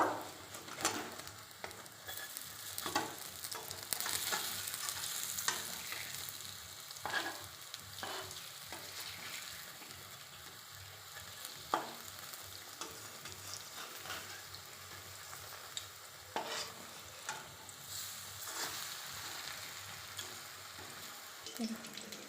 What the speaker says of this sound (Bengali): এবার আমি লউটিয়ে নেব।